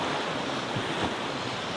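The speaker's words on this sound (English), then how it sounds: "Did you hear those waves?" Ocean waves at a wharf, a steady broadband wash of surf mixed with wind noise on the microphone, loud and continuous.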